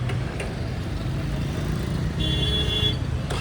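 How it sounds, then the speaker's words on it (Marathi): Road traffic of cars and motorcycles at a village chowk in India, a continuous near engine rumble with passing vehicles, a brief higher tone near the end and faint voices. "लय ट्रॅफिक झालं रे आज राव."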